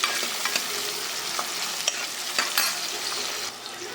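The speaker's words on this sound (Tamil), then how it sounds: "கூட கருவேப்பிலையும் போட்டு வதக்கிக்கலாம்." Curry leaves sautéing with onions in a pan for idli kurma, a soft steady sizzle broken by irregular stirring scrapes and clinks, close and moderately quiet, no talking.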